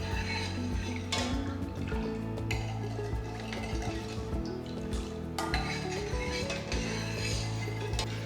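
A spoon stirs semolina nonstop in a heated pan, giving repeated close scraping and clinking against the metal in an uneven rhythm, with no talk over it.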